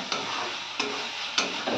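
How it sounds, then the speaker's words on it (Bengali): Spice paste for a small-fish vegetable curry frying in a pan, a steady close sizzle with a few sharp scraping stirs at regular intervals. "আমি আরো অল্প ভেজে নিব।"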